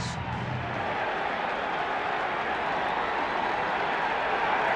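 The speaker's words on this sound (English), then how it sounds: "It is a raucous crowd already here at the vet." A loud, raucous crowd roars continuously at Veterans Stadium in Philadelphia before the first pitch of Game 6 of the 1993 NLCS, a dense, steady wash of cheering from thousands of fans.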